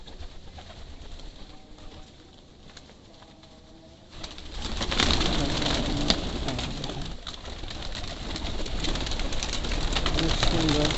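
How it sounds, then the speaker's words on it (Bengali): Pigeons coo steadily in a home loft with eggs and chicks, a low throaty murmur that grows fuller and louder midway through, with some faint voice in the background. "এই যে কবুতর সব"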